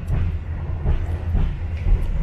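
Train wheels clatter over rail joints in a steady rumbling rhythm, with repeated clicks rising above a low continuous roar, aboard the Rajabasa train from Bandar Lampung to Palembang, Sumatra.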